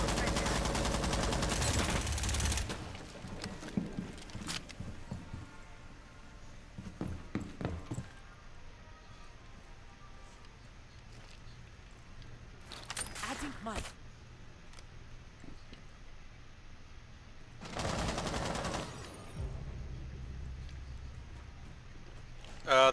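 Gunfire in the Rainbow Six Siege video game, several short separate bursts of shots at varying distance over a steady low background, with quieter stretches and faint footsteps between them.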